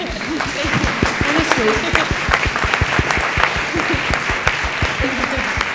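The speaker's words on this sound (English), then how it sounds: "I think that deserves a round of applause." A panel audience at the 2013 Berlinale film festival applauds steadily, a dense wash of clapping with distinct loud claps standing out throughout, and a few voices murmuring underneath.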